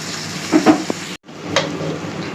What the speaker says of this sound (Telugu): చికెన్ వేసేద్దాం దీంట్లో.